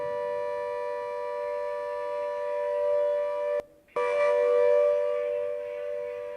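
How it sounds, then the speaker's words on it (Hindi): Air raid siren wails steadily across the Jodhpur collectorate during a blackout mock drill, a loud sustained tone that cuts out briefly and then resumes at full strength. "कलेक्ट्रेट परिसर में 3 मिनट तक ये सायरन गूंजा"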